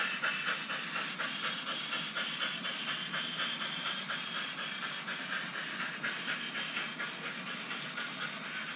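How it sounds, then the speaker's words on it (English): A steady hiss of steam with a rhythmic chuffing and light rail clatter, as a small HO-scale model steam train runs continuously nearby on a layout. "The V&T train now passes behind that."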